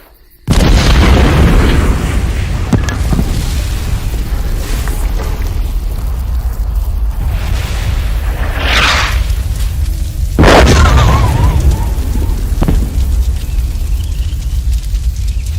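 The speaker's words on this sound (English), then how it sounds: "Here comes the Vault 69 artillery shells." Artillery shells exploding in the Fallout video game, a sustained roaring barrage of heavy booms and bursts that erupts suddenly and stays loud, with sharper blasts standing out partway through.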